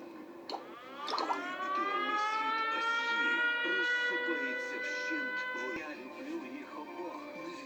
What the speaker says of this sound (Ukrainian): Увага! Повітряна тривога. Пройдіть найближче укриття.